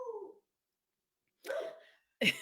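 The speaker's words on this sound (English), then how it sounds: "And here almost goes my dog barking." A dog gives a few short barks and yips at moderate distance, in two or three brief bursts separated by silence, with the last sharp and loud.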